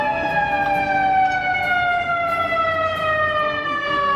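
A loud, close ambulance siren wails continuously in Chicago traffic, its steady descending tone carrying throughout with a low rumble of traffic beneath.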